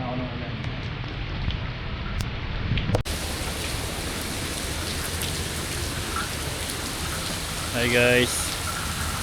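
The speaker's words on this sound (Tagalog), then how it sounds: "it's raining now in Abu Dhabi" Steady rain falls in Abu Dhabi, a dense even hiss of drops on surfaces that continues throughout, with a person briefly speaking near the start and a short burst of voices near the end.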